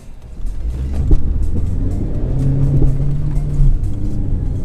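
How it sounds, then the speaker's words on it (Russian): A Lada Granta accelerating hard on a wet road, with a loud close engine roar and rising whine building over a few seconds, no talking. "Все, поехали разгонять машину."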